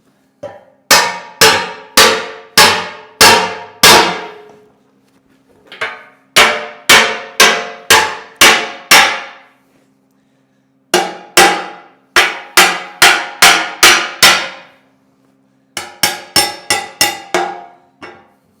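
Metal clangs under repeated hammer blows while a small wheel loader is being fixed, loud ringing strikes in quick bursts of four to six, separated by short pauses.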